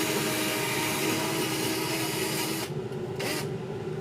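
A vacuum cleaner fitted with its small attachment runs with a steady, loud broadband roar that drops briefly, surges back, then dips again near the end, with no talking.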